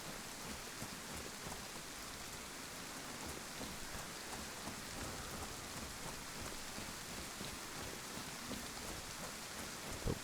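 Heavy rain in the DayZ survival game pours down in a dense, steady hiss across the whole stretch, with no distinct thunder clap standing out and no talking.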